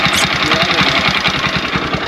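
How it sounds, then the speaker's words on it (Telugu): A farm vehicle's engine runs right after a spark plug change, heard up close as a steady, rapid low chugging with a rough, even rhythm. "ప్లగ్ మార్చగానే బండి స్టార్ట్ అయింది."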